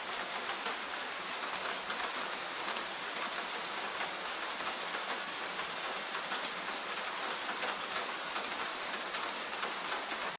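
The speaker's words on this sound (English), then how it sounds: "Now the storm is turning into rain" Steady rain falling on a surface, a dense, even patter of drops that stays constant and moderately loud from start to finish, with no voices.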